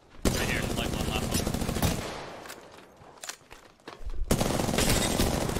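Automatic gunfire in the video game Apex Legends, dense rapid bursts that fill the opening, fade into a lull with a few scattered shots and footsteps, then return loud and sustained.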